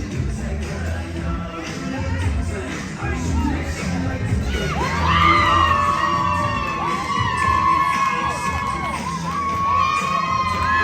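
A crowd at an Epcot after party cheers, whoops and shouts with high, excited voices, swelling loudly midway and staying lively throughout.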